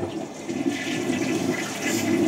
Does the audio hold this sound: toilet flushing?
yes